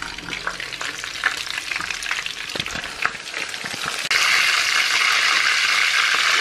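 Food seasoned with Maggi, salt, pepper and flour sizzles steadily in a frying pan, a dense close crackle with occasional stirring clatter, growing louder and more even toward the end.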